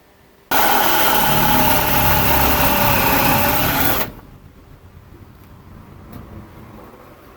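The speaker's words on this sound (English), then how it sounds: "the hole that you're going to drill on the side here with a hole saw" A loud power drill whines steadily for a few seconds with a hole saw biting into the side of a door for a lock, then cuts off abruptly, leaving quiet room tone.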